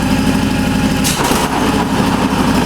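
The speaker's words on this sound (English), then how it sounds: "Now we're ready to cut grass. I'll throttle down, engage the blade" The engine of a 2013 TRX-42 remote-control hydrostatic lawn mower idles with its blade engaged, a loud, steady close drone with a brief rough burst as the blade kicks in partway through.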